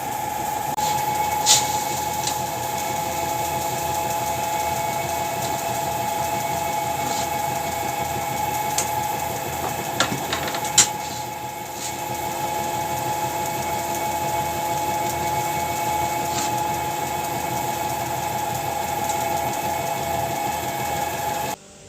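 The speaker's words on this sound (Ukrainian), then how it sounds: "включаємо млинок і готуємо слідуючий" A feed grinder mill runs on a farm, making a steady, loud mechanical drone with a constant hum and occasional faint clanks throughout.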